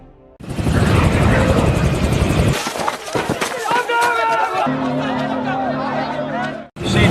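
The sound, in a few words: helicopter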